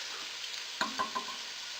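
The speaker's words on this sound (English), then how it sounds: "just constantly coming back and stirring it every 30 to 40 seconds just to make sure the stuff on the bottom's turned over" Beef mince fries in a pot for spaghetti bolognese under a soft, steady sizzle, with a few quick scraping knocks as it is stirred.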